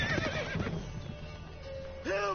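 Roach, a horse in the Witcher 3 video game, lets out a loud, close whinny at the start, followed by a quieter stretch and a second rising neigh near the end, with faint hoof clatter.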